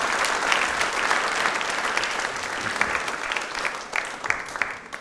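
A hall audience at an Ambedkar Jayanti quiz programme breaks into loud applause, a full continuous patter of many hands with a few sharper individual claps standing out toward the end.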